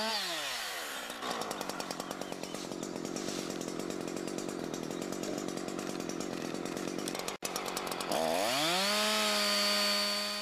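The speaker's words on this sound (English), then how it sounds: "Then cut from above to meet the first cut." A chainsaw revs up and cuts down through a tree trunk from above during limbing, its engine bogging into a steady buzzing cut for several seconds, then revving freely and idling down afterward.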